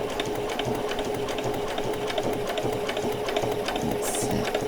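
A sewing machine running a straight stitch across a doll's dog collar, a steady fast mechanical whir and needle tapping, close and continuous without pause.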